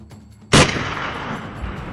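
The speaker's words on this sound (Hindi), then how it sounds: "एक और गोली चली" A single sharp gunshot sound effect cracks out loud and close, then decays into a long rumbling echo that fades slowly, with no voices.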